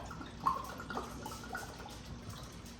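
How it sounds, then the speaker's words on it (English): A bottle filled with water in a home kitchen, with soft close splashing, trickling and dripping as liquid runs in, faint and continuous for a few seconds. "we're going to take this bottle and we're going to fill it up with water"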